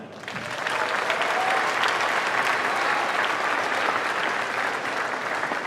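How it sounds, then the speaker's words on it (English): Steady, enthusiastic applause from a large audience at a school band concert in a gymnasium fills the room, swelling quickly and holding at an even level to the end. "Big round of applause here for Mrs. Crystal Smith."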